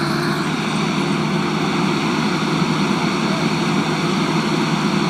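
A skid steer loader with a small bucket and fast hydraulics moves dirt. Its engine makes a loud, steady, unbroken drone throughout.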